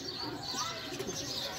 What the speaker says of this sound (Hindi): ये सिल्वर गोल्डन कबूतर है ये असल।